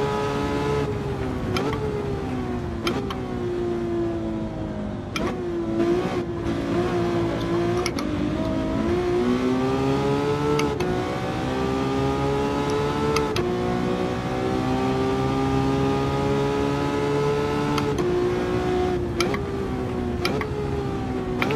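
Ferrari F12 berlinetta V12 engine in a racing video game played with a Thrustmaster wheel, loud and continuous, revving up through gears with brief dips at each shift and sustained high-pitched howl throughout.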